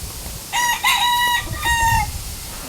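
Several roosters crow loudly in two long, harmonic calls close by, with a faint background of chickens and farmyard noise.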